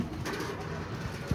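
A pigeon coos softly up close, with a low murmuring call over faint background noise.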